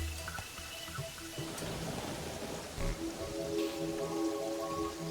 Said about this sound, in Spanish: Pues bien, está lloviendo.